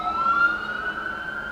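Emergency vehicle siren wailing outside, a faint, distant tone sliding slowly upward and holding throughout, heard from indoors.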